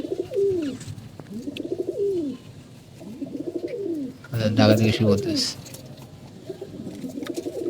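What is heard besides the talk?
pigeons cooing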